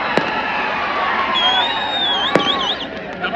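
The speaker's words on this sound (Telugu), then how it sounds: "ఎవరో టపాకాయలు బంద్ చేయండి" Firecrackers crack out at an outdoor political rally in Mancherial, Telangana, with two sharp bangs standing out above a constant crowd murmur and a thin whistling tone.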